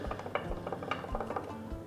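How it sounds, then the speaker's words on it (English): A tiny wooden spoon stirs saffron into Arabic coffee in a small pot, giving faint, close, irregular taps and scrapes against the pot's sides. "So stir our saffron into the coffee."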